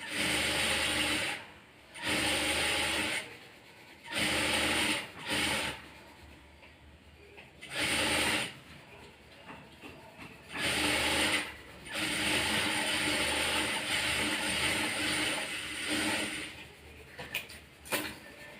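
Bursts of a sewing machine stitching a plain blouse sleeve, each run of rapid mechanical whirring lasting a second or two, separated by short pauses as the fabric is turned and repositioned; close and steady, with no talk.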